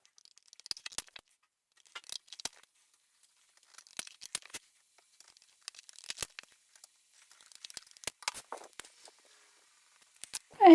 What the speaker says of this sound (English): And when you've done that, you can cut out the shape.